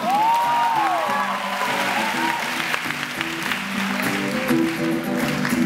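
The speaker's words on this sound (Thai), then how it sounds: "ขอเสียงปรบมือให้พี่ชาติกะบผมครับ" An audience applauds at a concert in a theatre, a dense wash of clapping that starts loud and keeps going under sustained musical tones.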